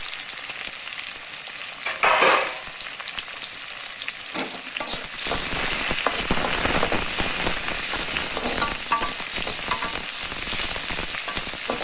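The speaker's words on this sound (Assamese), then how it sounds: "এতিয়া মই ৰংচঙা হোৱালৈকে ভালদৰে ভাজিম" Chopped onion, two dried red chillies and a little flour fry in a pan for an Assamese pigeon curry, a steady close sizzle broken by scraping stirs, with no talk.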